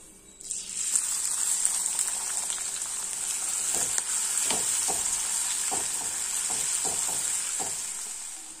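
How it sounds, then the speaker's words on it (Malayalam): Crushed shallots, garlic and curry leaves fry in hot coconut oil with a loud, steady sizzle close by. Spatula scrapes and taps break through the hiss at intervals. "നമ്മൾ ഈ ചതച്ച് വെച്ചിരിക്കുന്ന ഉള്ളിയും വെളുത്തുള്ളിയും കറിവേപ്പിലയും കൂടെ ഇട്ട് കൊടുക്കാം"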